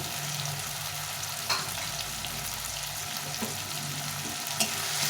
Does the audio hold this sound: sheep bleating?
no